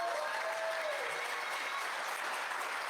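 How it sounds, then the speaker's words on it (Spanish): Steady, full applause from a university lecture audience welcoming a law professor speaker, loud and sustained throughout with no talking over it. "les pido un fuerte aplauso para ella."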